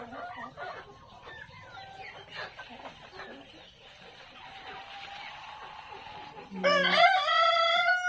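Black Australorp chickens cluck and murmur softly nearby for several seconds, then a rooster lets out a loud, drawn-out crow close by.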